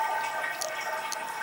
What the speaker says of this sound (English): I think the toilet is fine. The flushing is good.